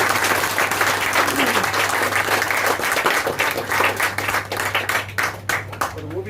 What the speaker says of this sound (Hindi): एक बार ताली तो बनती, जोरदार ताली नहीं बनती है।